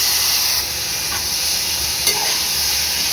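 Onion and tomato frying in a pan for a mint and coriander tomato chutney, a loud, continuous hissing sizzle with a couple of brief stirring scrapes, close and without talk.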